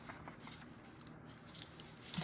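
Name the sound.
cutting paper with scissors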